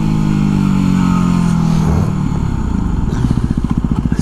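A dirt bike engine roaring close and loud as the rider accelerates, its steady drone rising in pitch before breaking into a rapid, pulsing exhaust beat.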